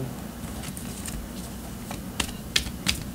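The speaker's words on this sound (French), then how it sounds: "Je continue de brasser les cartes un petit peu" Tarot cards being shuffled by hand give soft, close papery riffles and light taps over a quiet background, with a few sharper snaps near the end.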